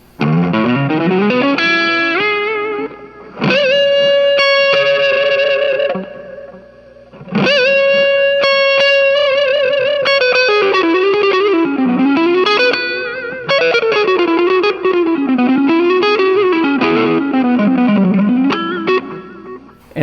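An overdriven electric guitar rings out sustained, distorted notes and chords, played alone with pauses between phrases and a thick, gritty tone.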